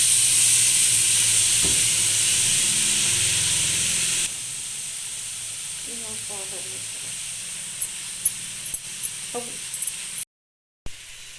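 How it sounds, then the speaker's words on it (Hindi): Grated apples tipped into a hot kadhai over a medium flame for homemade apple jam, with a loud, steady hiss and sizzle that eases after a few seconds, then a few light scrapes and taps. "ये देखें, कद्दूकस किए हुए सेब मैं अब कढ़ाई में डाल रही हूँ।"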